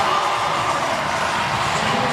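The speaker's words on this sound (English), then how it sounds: "The crowd getting behind, sorry Stacey, crowd getting behind 7-0 Olivia Kerstetter." A crowd roars and cheers steadily at the CrossFit Games 2023 women's final event, a dense, loud wash of shouts and whoops from a large arena audience with no pause.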